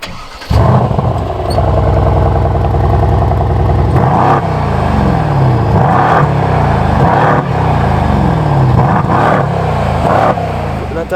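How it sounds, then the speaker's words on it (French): Mercedes C63 AMG V8 with its exhaust valves open, starting up with a loud burst then settling into a deep burbling idle punctuated by several sharp revs at regular intervals, close and powerful. "Mais là on a ouvert l'échappement, donc on va attendre un petit peu le V8."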